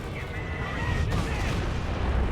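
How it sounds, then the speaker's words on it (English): A Stuka dive bomber attack in Company of Heroes 2, heard as a dense, loud rumble of explosions and gunfire with a sharp burst near the middle, sustained throughout. "Oh, that's a Stuka dive bomb."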